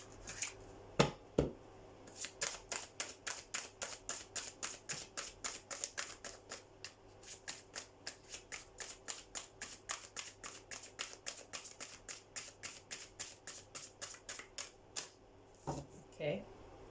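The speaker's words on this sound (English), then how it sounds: "Now I can do my last shuffle." A deck of cards being riffled and bridged in a long run of rapid, rhythmic crisp flutters, close and steady, with a few sharper taps at the start and end.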